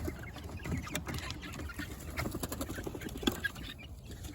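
Backyard flock of Cochin chickens with a couple of curly-feathered frizzles, plus some roosters, giving off steady overlapping clucks and soft calls from several birds close by, with no talk.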